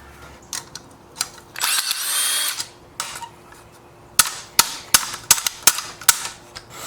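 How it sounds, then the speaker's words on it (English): Hammer blows on a nut threaded onto a turbocharger shaft during a teardown: a burst of power-tool whirring, then about eight sharp, loud metallic strikes in quick succession. "take your nut, put it on there, a couple of threads, and beat on that"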